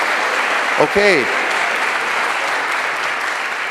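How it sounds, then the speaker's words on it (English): Concert audience applauding alumni at a community choir performance, steady dense clapping throughout, briefly overlaid by a single short spoken word. "Let's give the alumni a big round of applause"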